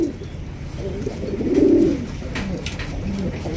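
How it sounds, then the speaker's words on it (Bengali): Pigeons kept in a loft coo in a low rolling murmur that swells in the middle, with faint background noise. "এখানে রয়েছে ভ্যারাইটিস কবুতর"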